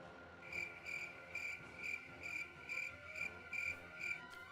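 Crickets chirp in a sound effect standing in for a laugh track: a steady train of about nine evenly spaced chirp bursts, clear and fairly close, over quiet background with no talking.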